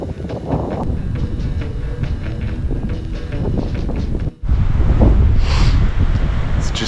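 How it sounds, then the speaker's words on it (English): Strong wind gusts over an Alberta mountain peak, buffeting the microphone with loud, continuous roaring noise that surges harder near the end. "It's pretty windy."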